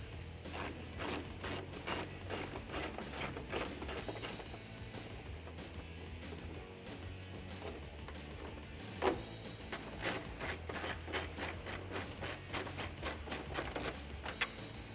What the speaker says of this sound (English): Grab an 8mm socket and remove the 2 bolts on the inside.